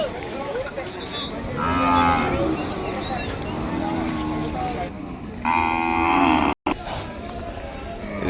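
Ongole bull calves on a farm in Kodada, Telangana, give two long, loud moos, one early and one later, over steady background noise with some voices.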